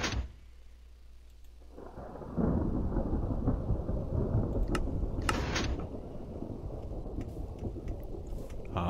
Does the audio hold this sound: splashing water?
no